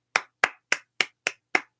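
One person claps six crisp, evenly spaced times in quiet surroundings, with no other sound between the claps.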